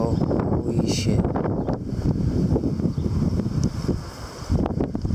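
Strong storm wind gusts buffet the microphone in a loud, rumbling roar that surges and eases across the span, with brief louder blasts and faint background noise.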